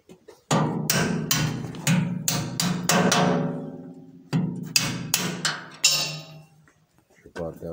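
A series of sharp taps from a small hammer, coming in quick irregular bursts with brief pauses, close and fairly loud, while replacing a sawdust board in a pellet stove.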